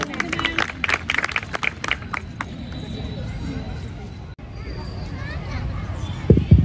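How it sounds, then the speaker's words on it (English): An audience at a school sports day applauds in a burst of crowd clapping with scattered voices, then fades into a general murmur of children and adults before a few loud handling thumps at the end. "They also need a big round of applause"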